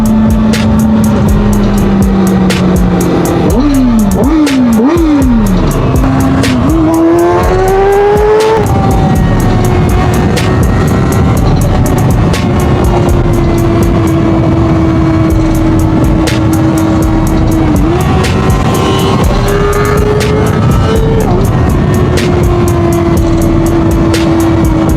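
A loud 2025 Kawasaki ZX-4RR motorcycle engine revs up through several quick gear changes, then settles into a steady high drone with rushing wind noise.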